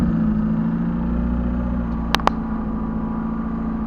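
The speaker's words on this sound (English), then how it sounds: "So let's start the car up, and I'll show you what it sounds like" A turbocharged car with a hood exit exhaust runs loudly and steadily. Its close, droning engine rumble carries on unbroken, with two sharp clicks near the end.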